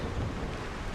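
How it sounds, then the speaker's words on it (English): Rain and low rumbling of a thunderstorm in the farming game Solarpunk, a faint, steady wash of rainfall with a soft low rumble and no voices. "Storms are not good, guys. So lightning can strike you"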